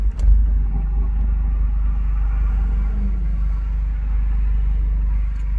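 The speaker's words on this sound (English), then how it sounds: "It's like a never-ending supply of cars just popping into existence right down the street." Cars rolling down a street, a continuous low rumble of road traffic with engine drone, fairly close and steady throughout, no voices.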